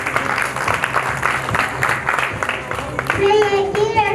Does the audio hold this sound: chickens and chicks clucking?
no